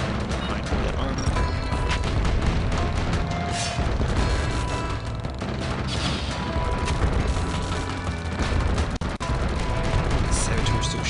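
In the iOS tower-defence game OTTTD, a saboteur's gunfire pops repeatedly within a dense, continuous wash of booming cannon and battle noise, with a voice talking over it throughout.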